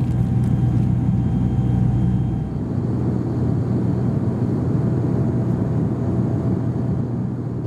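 Steady, loud cabin drone inside a QantasLink Dash 8-200 turboprop in flight from Sydney to Moree, with a broad low rumble and faint tonal propeller hum running continuously throughout.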